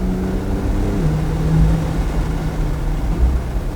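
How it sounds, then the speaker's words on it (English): A Porsche 911 Targa 4 GTS with a twin-turbo flat-six and PDK gearbox heard from the cabin, a steady droning engine tone stepping down in pitch at a gear shift over loud road rumble. "PDK shifts a lot harder in Sport Plus in this car"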